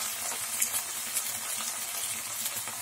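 Ingredients for mutton kuzhambu sauté in a hot pan, a close steady sizzle and crackle with light stirring, no voices.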